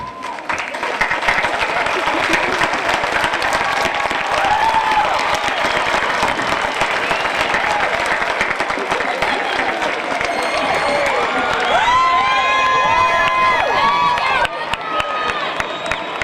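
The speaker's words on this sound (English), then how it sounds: "give our families and parents a round of applause" A stadium crowd at a Valley High School commencement in Santa Ana applauds and cheers for families and parents, dense continuous clapping with shouts and whistles rising near the end, then tapering off.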